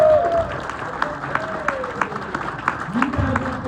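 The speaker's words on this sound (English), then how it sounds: "we can give you a round of applause for being so good?" A live audience applauds the magician Jonah at a magic lecture, a steady patter of many hands with occasional louder claps, while a few voices murmur and talk beneath the clapping.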